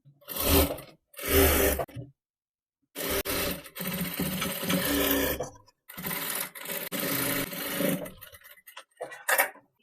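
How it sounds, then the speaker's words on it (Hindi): A sewing machine stitches the neckline of an Angrakha-style Anarkali dress in several close, loud runs of rapid mechanical clatter, separated by short pauses and silent gaps, with no talking. "मैं यहाँ पे गले पे सिलाई लगा दी हूँ।"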